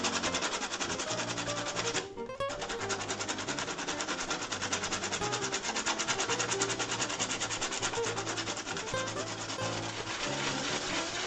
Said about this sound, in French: Un petit coup de ponçage vite fait pour enlever